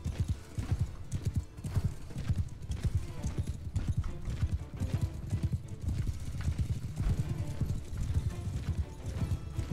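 Horses galloping in Mount and Blade II: Bannerlord, a steady, loud clatter of many hooves with occasional neighs during a cavalry charge of horse archers.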